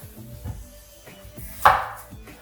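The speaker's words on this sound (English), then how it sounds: "Right here I have one onion. What I'm gonna do is slice it thinly." Onion being thinly sliced with a knife on a cutting board, several close, distinct knocks of the blade hitting the board in an uneven rhythm, one sharper and louder, with no voices.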